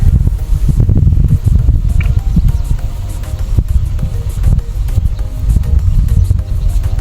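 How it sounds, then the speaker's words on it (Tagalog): Strong wind roars and buffets continuously in the open while hunting, a heavy rumbling gusty noise with faint rustling throughout. "Lakas ng hangin."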